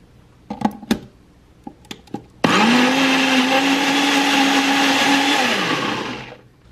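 Oat protein pancake batter of egg, half a banana and almond milk is blitzed in a blender. A few knocks and clicks come first, then a loud whirring motor runs steadily close up for about four seconds before it winds down.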